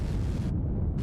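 Rocket engines firing in the Kerbal Space Program 2 video game, a loud, dense roaring burst lasting about a second with a heavy low rumble, alone without any talk.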